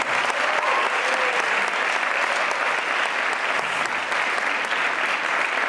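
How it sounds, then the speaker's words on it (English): An audience at a Wizard of Oz cast benefit performance in Cleveland breaks into steady, even applause that carries on evenly throughout, a broad wash of clapping from a full room. "So a big round of applause for all of you out there."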